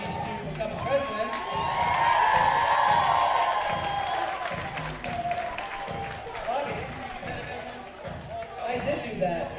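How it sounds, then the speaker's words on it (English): Loud audience applause and cheering at an awards event, a crowd clapping and whooping while a voice talks over it, with rhythmic thumping footfalls or bounces underneath. "Give a loud round of applause also to Jose"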